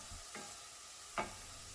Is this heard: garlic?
yes